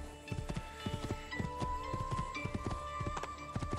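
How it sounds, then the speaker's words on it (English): Horse hooves clip-clop in a steady, even rhythm as a light-colored horse is ridden in the video game Assassin's Creed II, with a faint tonal music bed underneath. "We'll get on this light-colored horse."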